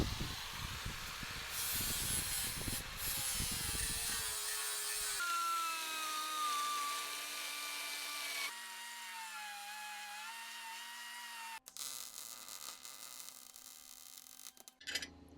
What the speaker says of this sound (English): I cut some plates to reinforce the repair, and then gave everything a coat of weld-through primer